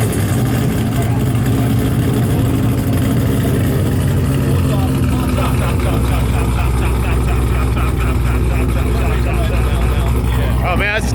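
A 1150-hp supercharged Chevrolet Camaro SS engine idles loud and lumpy nonstop at close range, while people talk over the rumble.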